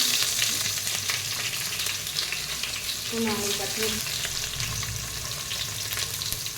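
Chopped onion fries in hot oil with bay leaves, cloves and cardamom for a chicken dish, sizzling steadily and close up, with a brief stir partway through.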